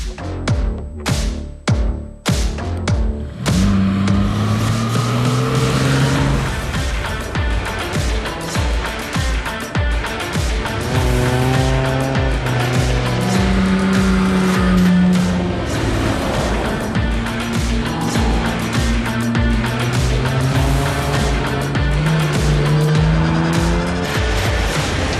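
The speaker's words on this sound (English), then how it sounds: "the Audis are making the best of their engines" Audi rally cars race flat out on stage 3 of the Dakar Classic, engines droning loud and steady throughout with rising and falling revs, a few sharp bursts at the start, and tires squealing and skidding over the continuous roar.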